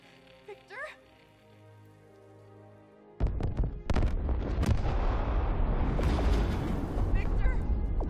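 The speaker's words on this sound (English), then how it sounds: "Massive explosion in the bay." Massive explosion in a bay in the video game Batman Arkham Knight, a sudden loud broadband blast that cuts in abruptly and rumbles on with heavy debris noise and secondary bursts, after quieter game dialogue.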